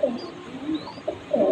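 Soft, low coos from a small female pet pigeon at home, a few short rounded calls spaced through the moment with faint background hum, no talking.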